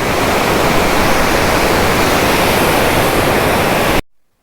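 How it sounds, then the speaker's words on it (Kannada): Surlabbi waterfall in Coorg during rain, water crashing down fast in a loud, dense, continuous roar that cuts off abruptly near the end. "ಒಂದೇ ಮೇನ್ ರೋಡು ನೋಡಿ ಎಷ್ಟು ಸ್ಪೀಡಾಗಿ ಬರ್ತಾ ಇದೆ ನೀರು ಇದು ದೊಡ್ಡ ಕಣವೆ ನೋಡಿ ಎಷ್ಟು ಸಕ್ಕತ್ತಾಗಿ ಬೀಳ್ತಾ ಇದೆ"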